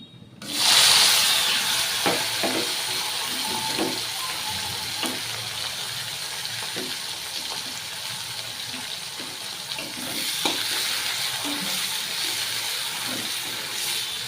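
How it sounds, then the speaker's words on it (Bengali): Chopped onions, slit green chillies and black cumin dropped into hot oil, setting off a loud, sudden sizzle that settles into a steady hiss with small pops and swells again later; no voices. "তেলের মধ্যে দেব কালো জিরে তারপরে কুচানো পেঁয়াজ আর চেরা কাঁচা লঙ্কাগুলো দিয়ে দেবো"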